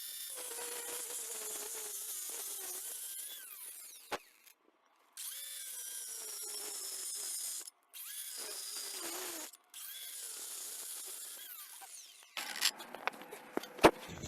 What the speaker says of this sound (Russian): хочу попробовать распилить обычный красный кирпич